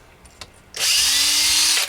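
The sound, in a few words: power drill drilling screw holes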